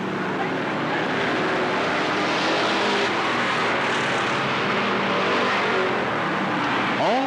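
Limited sportsman race cars roar around a speedway track in a continuous, loud engine drone, with a track announcer's voice running underneath the noise.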